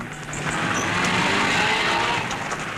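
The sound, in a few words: Porsche rally car on a mountain pass, 1958 Coupe des Alpes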